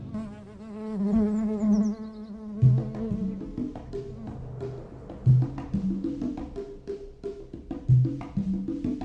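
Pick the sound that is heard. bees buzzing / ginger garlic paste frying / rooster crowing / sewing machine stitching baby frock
bees buzzing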